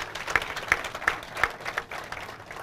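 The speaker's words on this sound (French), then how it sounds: "méritent qu'on applaudisse fort et très fort" A crowd at a Chad event applauds the doctors of a surgical caravan, a sustained wash of clapping with a few louder rhythmic bursts of synchronized claps standing out at a moderate distance.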